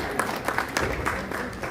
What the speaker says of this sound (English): please, the sound team, a round of applause